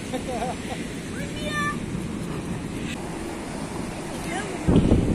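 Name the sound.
strong wind blowing at the seaside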